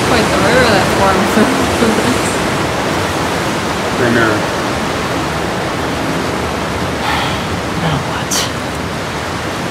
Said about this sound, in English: It's quite the river that forms.